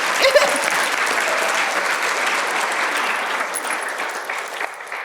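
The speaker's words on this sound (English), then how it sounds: "Gotta clap, gotta clap" A keynote crowd at an arts integration conference breaks into sustained applause after a poem, a dense even wash of clapping throughout, fairly loud and close.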